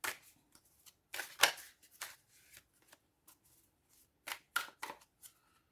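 A deck of tarot cards is shuffled close by in short papery bursts and flicks, several clustered snaps separated by brief quiet gaps, with no one speaking.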